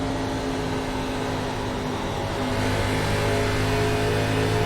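Race cars run alongside in iRacing at Kentucky, their engines droning and rising as they accelerate. The revving holds continuously at moderate volume, growing slightly louder toward the end.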